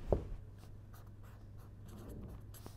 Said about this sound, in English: So, let us write that down first